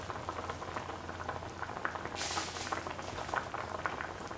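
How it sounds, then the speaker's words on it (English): Tomato and yam mixture for a yogurt stew bubbling and sizzling steadily in a pan, a continuous close simmering hiss with soft popping bursts throughout. "Keep on mixing and let the mixture cook for 15 to 20 minutes."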